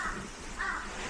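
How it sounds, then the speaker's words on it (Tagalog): Two loud crow caws outdoors, one early and one later, harsh and close over a steady cold-weather background hum, with no talk. "Uwak."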